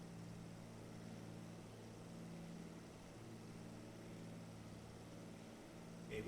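A DC-3 propeller airliner in Microsoft Flight Simulator cruises over Lake Baikal, its engines a quiet, steady, low droning hum that continues unbroken with no voices.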